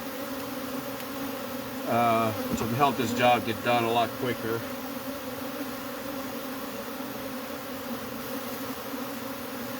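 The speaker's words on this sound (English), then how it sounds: "shaking off all the bees so that they will all group into one big mass" A swarm of honey bees buzzing loudly at close range as comb full of brood is cut from a cable box and shaken off, a dense steady drone with someone talking over it.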